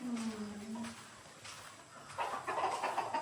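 Hens cluck and murmur nearby in hen pens on a large farm in Cebu during breeding season, with a low drawn-out call early and busier clucking toward the end.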